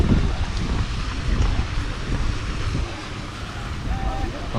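Steady wind buffets the microphone at the seaside in Hurghada, Egypt, a loud, continuous rumbling roar with gusts, with faint sea and water activity underneath.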